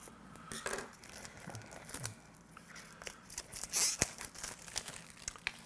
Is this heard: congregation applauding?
no